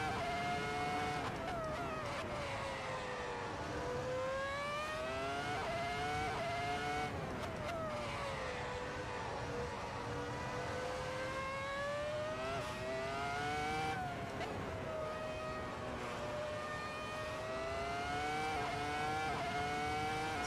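A 2004 Formula 1 car lapping in the Assetto Corsa racing game screams loudly and continuously, its engine pitch rising through gears and dipping into corners over and over, with no talking.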